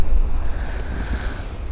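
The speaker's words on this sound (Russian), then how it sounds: "Погода, небольшой ветерок попутный" A light following wind buffets the microphone with steady low rumbling roar over a 320 Hunter rigid-floor inflatable boat with a 2.6 hp HDX outboard, water and motor noise blending underneath.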